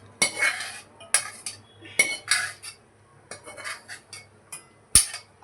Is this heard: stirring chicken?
yes